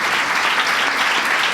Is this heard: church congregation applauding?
yes